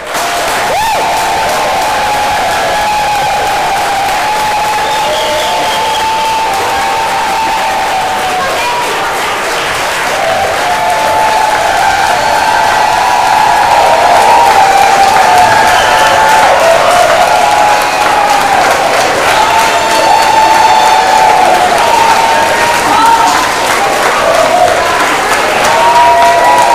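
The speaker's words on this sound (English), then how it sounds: "When we bring them in, just clap them in" Steady, loud applause from an audience clapping a children's choir into position on stage, a dense continuous wash of hands that swells slightly partway through, with a few cheers mixed in.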